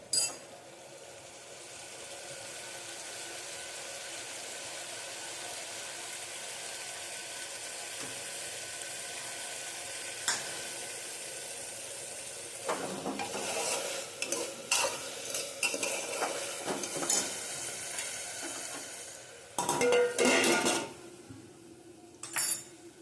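Cauliflower and carrot curry in a pan gives a soft steady sizzle, then a spoon scrapes and clinks against the pan in busy bursts, loudest near the end.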